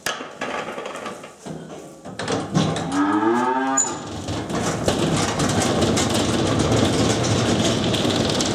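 Ten-day-old calf in a barn lets out one clear, drawn-out moo, close and loud, before a steady engine drone takes over and continues to the end.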